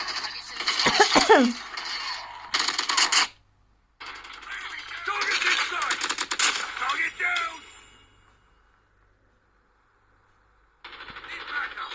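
Gunfire from a mobile shooter game plays through a smartphone speaker, dense bursts of rapid crackling shots and clatter in uneven clusters, then a long near-silent gap before more firing, with game voices mixed in.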